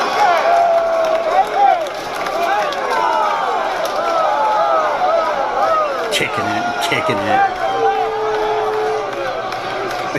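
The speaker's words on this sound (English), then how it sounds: "The crowd's booing because they're in Alabama, the team that won." A large indoor crowd in Alabama jeers at departing basketball players, a dense, loud wash of voices with overlapping shouts and boos, and a nearby voice speaking over it.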